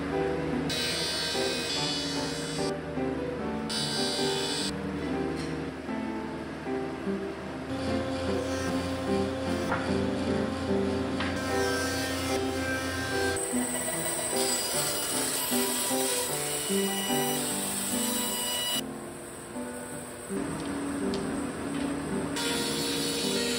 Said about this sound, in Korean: 제재목의 기본인 산양대패 작업을 진행합니다.